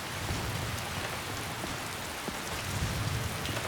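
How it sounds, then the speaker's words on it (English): Steady rain falls in a Skyrim game world, a continuous dense hiss of drops with faint patters, moderately quiet and unbroken by voices. "We got a little rain."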